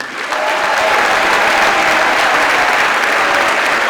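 Steady, dense applause from an audience at a high school spring band concert, a broad wash of clapping that swells in after a brief start and holds loud and even.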